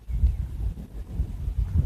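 Low, rumbling gusts of wind buffet the microphone, rising and falling unevenly with no voices.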